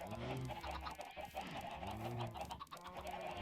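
In the Minecraft video game, chickens cluck in short repeated bursts while a dense, busy game soundscape plays at moderate volume. No voices are present.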